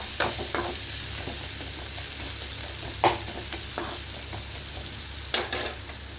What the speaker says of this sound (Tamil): வெங்காயம் போட்டு நல்லா வணக்கி விட்டு கொஞ்சமாக சால்ட் ஆட் பண்ணிக்கலாம்.